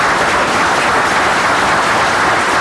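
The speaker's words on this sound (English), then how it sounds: "A round of applause." Dense, steady applause from a meeting audience, loud and close, sustained without a break.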